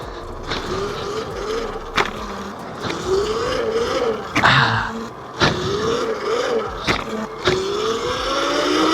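A Yozma IN 10 budget dirt bike, rated near 40 mph, revs its small engine in repeated rising surges during wheelies, close and loud, with sharp knocks between the pulls and no talking.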